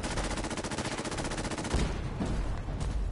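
Automated turrets firing in Fallout 4, a rapid machine-gun-like rattle of steady repeated bursts that carries on throughout, loud and close, with no talking over it.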